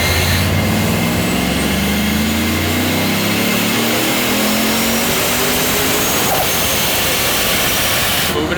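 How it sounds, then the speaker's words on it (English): A supercharged work van engine revs hard on a dyno, a loud sustained roar with rising pitch and blower whine, captured up close over loud cooling fans. "We'll hear this blower."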